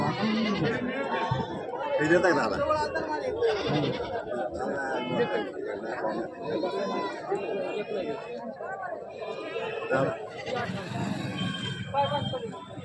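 Goats bleating among a busy crowd at a Sunday goat market in Bigwan, with constant chatter and bargaining voices close by and bleats rising intermittently throughout.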